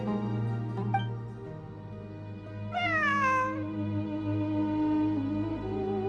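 A cat meows in the video game Genshin Impact: a short call near the start, then a clear, drawn-out meow, both over a soft, steady game soundtrack.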